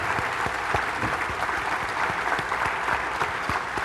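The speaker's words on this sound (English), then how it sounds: "Give them a big round of applause." A crowd at the 2015 Fayette County Fair Queen Contest gives a sustained, even round of applause for fair board members, dense clapping close and steady throughout.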